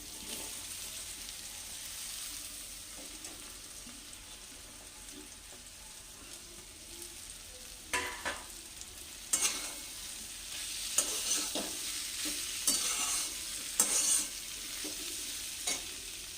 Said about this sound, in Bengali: এবার আমি যে আলুগুলো ভেজে উঠে রেখেছিলাম এগুলোকে দিয়ে দিচ্ছি